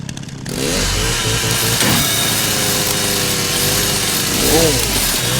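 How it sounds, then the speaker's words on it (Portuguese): A chainsaw runs continuously in the Resident Evil Requiem video game, a loud, close, buzzing engine drone that holds steady throughout with slight swells in pitch. "Onde que eu vou com esse motosserra aqui?"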